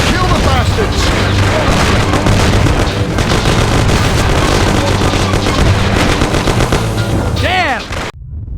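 A shootout in the video game Mafia brings loud, dense bursts of gunfire, rapid volleys and booms that keep going for several seconds, with shouting voices mixed into the din before it cuts off abruptly.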